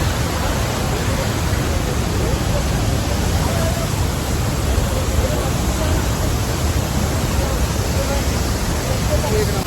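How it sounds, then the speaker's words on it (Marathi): Vasundhara waterfall near Bhandardara roars as a steady, dense wash of falling water, loud and unbroken from start to end with no distinct events. "तर आम्ही आलोय वसुंधरा फॉलला"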